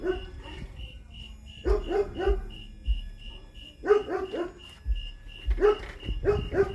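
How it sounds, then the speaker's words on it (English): A dog barks in repeated bursts of several sharp barks with whimpers between them, close and fairly loud, while a steady high beeping tone runs in the background. "Dog's flipping out right now."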